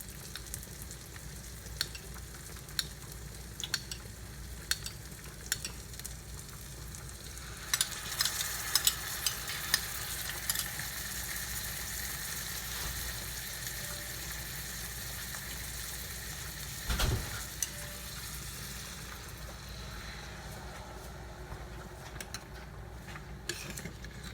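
A ketchup-and-water burger sauce simmers in a pan with a steady, soft sizzle, broken by occasional clinks and scrapes of stirring and a brief louder clatter partway through.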